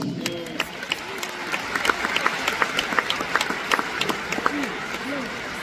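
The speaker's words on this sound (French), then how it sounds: "Ils méritent nos applaudissements." Steady applause from an audience, many hands clapping at a constant rate, with some voices faintly under the clapping.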